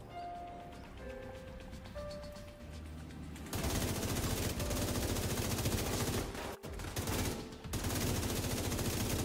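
Sustained rapid gunfire from a scoped rifle in The Division 2: Warlords of New York, a loud dense burst that starts a few seconds in after quieter game ambience and runs continuously, with brief gaps.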